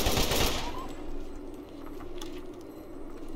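A gun fires in Borderlands Enhanced Edition: a sharp loud blast at the start trailing into fainter rattling, clinking shots and mechanical clicks that fade across the moment.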